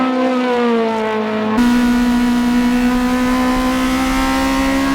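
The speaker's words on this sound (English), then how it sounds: "He's pushing his car to the limit. The KMS Hachiroku has better acceleration." Toyota AE86 Hachiroku race cars on a track, one engine screaming at high revs in a sustained loud whine with a gear change partway through, close and alone without talk.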